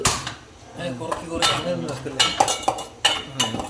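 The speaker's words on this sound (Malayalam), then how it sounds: "ഈ മസാല നമ്മൾ വറുത്തെടുക്കാൻ പോവുകയാണ്." Fish masala and coriander powder are dry-roasted in a pan, with a utensil scraping and clinking against the metal in irregular, close-up strokes.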